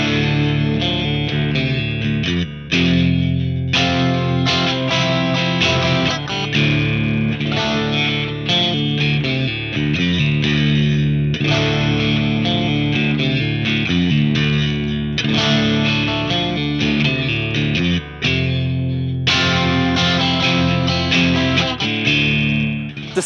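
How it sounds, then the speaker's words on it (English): A PRS SE Swamp Ash Special electric guitar plays continuously through effects, distorted chords and riffs with chorus shimmer ringing loud and close, with no talking. "The selection of tones that you can get from this guitar is absolutely incredible."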